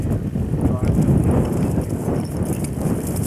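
Horse hooves clip-clop on the ground in a busy, continuous rhythm, close and fairly loud, partly masked by crowd noise and people talking.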